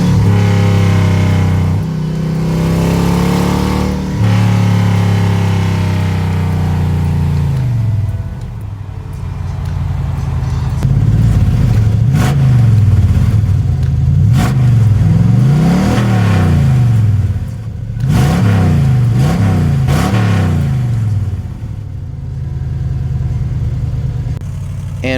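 A deep, rumbling V8 exhaust on a Chevrolet S10 idles, then revs repeatedly in several rising and falling bursts, loud and close, with a throaty burble between revs.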